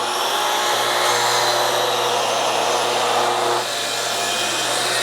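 Festool 75 track saw with a 36-tooth blade cutting through thick timber, a loud, steady, close whining motor and blade roar that holds for several seconds, then eases slightly toward the end.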